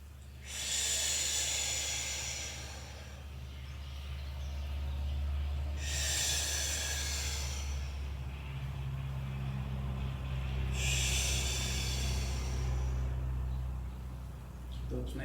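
Forceful, breathy exhales during Pilates leg lifts: three loud, close hissing breaths at regular intervals with quieter breathing and a low background hum between them.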